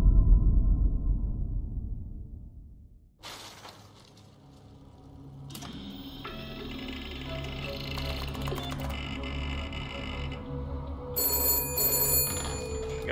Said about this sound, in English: You gotta be answering that phone